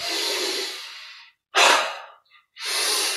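Deep breaths during a yoga breathing exercise: a long exhale, a pause, then a sharp forceful inhale, a short silence and another long breath, close and loud with no talking.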